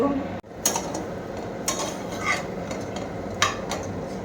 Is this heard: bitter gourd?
yes